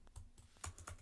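Keys tapped on a computer keyboard while entering a network switch command, several crisp close clicks in a quick uneven run, quiet and with no talking.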